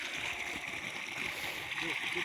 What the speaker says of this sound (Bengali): পাইপে জল আসছে।